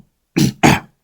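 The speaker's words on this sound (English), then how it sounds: "clear my throat for this one" A person clears their throat twice in quick succession, two short, loud, rasping bursts close to the microphone, separated by a brief pause and followed by silence.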